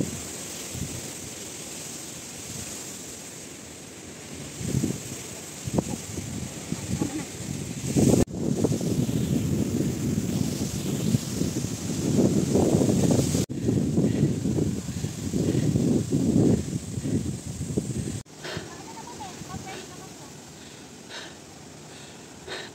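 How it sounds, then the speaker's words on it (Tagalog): Strong wind buffets close by on a mountain peak hike in a steady rushing roar, swelling in gusts, with breathy noises and faint movement sounds. "Lakas ng hangin guys, naririnig nyo ba?"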